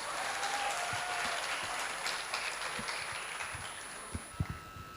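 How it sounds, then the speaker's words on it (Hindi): An audience at an Urdu conference session in Karachi claps steadily for three artists, a broad, even wash of applause that thins toward the end, leaving a few louder, isolated claps. "इनके लिए ज़ोरदार तालियां बजा दी जाएं"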